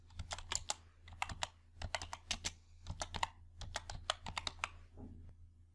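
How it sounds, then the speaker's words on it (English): Computer keyboard typing in quick irregular bursts of keystrokes with brief pauses, close and clear, no voices. "Now I type customer detail here."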